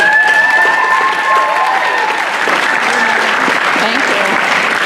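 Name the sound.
audience applause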